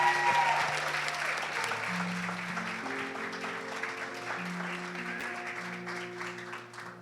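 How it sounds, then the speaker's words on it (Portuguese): Sustained applause from a church congregation fills the space, steady and fairly loud, with a few voices and held keyboard tones carrying underneath. "Uma salva de palmas para o Senhor pela vida dela."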